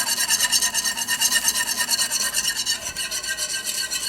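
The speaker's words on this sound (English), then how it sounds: "as you stream it in, you just want to whisk so it incorporates and it doesn't lump up" Steady, close scraping and rasping as a whisk works through a sauce while liquid is streamed in, for a dish later finished with fontina cheese; rhythmic strokes repeat evenly throughout with no talking.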